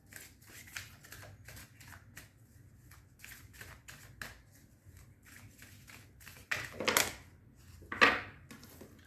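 Tarot cards being shuffled by hand in soft, quick riffling bursts, faint and close in a quiet room, with two louder flurries near the end.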